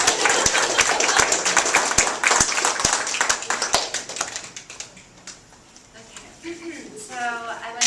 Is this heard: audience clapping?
yes